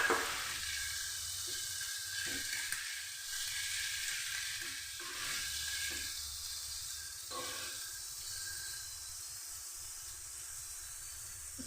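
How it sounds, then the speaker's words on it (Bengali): Poppy seed paste and onion leaves frying in a pan give off a steady, hissing sizzle after a splash of water goes in, continuous and close with faint stirring knocks, no voices. "পোস্তর বাটিটা ধুয়ে আমি একটু জল দিয়ে দিচ্ছি।"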